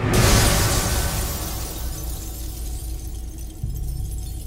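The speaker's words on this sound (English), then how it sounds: "Glass breaking." Glass breaking sound effect: a sharp burst of shattering at the outset, followed by a noisy, fading rumble and scattered debris, with a second softer thump near the end.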